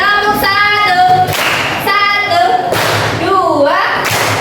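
A class of students claps a short rhythm together, several bursts of group clapping under children's chanting voices.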